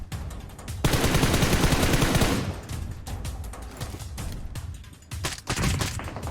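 Rapid automatic gunfire crackles as players shoot at each other on a building in PUBG Mobile, a dense burst followed by scattered shots.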